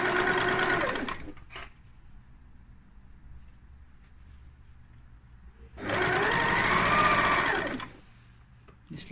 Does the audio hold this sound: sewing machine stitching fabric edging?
yes